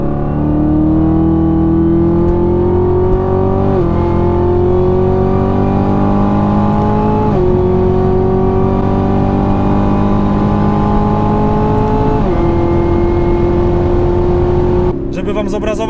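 A 650 hp Camaro ZL1 sports car accelerates hard on a track, its engine note rising loud and close through repeated gear changes, about four upshifts, with a brief lift at the end.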